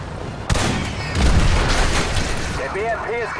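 In Call of Duty: Modern Warfare Remastered, a sharp rocket launcher blast erupts, followed by a heavy rumbling explosion and noisy battle din, with voices talking over the top.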